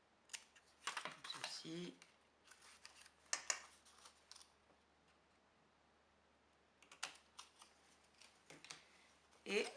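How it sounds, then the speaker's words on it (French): Scissors trim the paper tabs of a handmade pocket at an angle, giving short snipping and rustling bursts in a few clusters, close and fairly quiet, with a brief spoken remark partway through. "Je peux, si je le souhaite, recouper un petit peu les languettes en biais là qu'on ne voit pas le bord."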